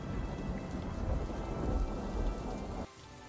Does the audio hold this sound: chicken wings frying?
no